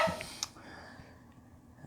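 A dog gives a few short barks nearby in a quiet room, with brief silent gaps between them.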